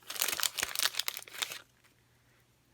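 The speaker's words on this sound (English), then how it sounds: "So I'm just going to cut this open." Plastic wrapping on a card kit package crinkles and tears as it is cut open, a burst of close, crisp rustling for about a second and a half before it goes quiet.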